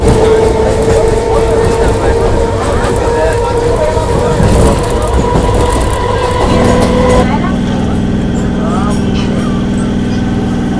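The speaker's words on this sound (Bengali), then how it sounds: "চলে আসলো আমাদের ট্রেন" Loud, close rumble of a train arriving at Barrackpore railway station with a sustained tonal hum that shifts pitch partway through, as if the train slows.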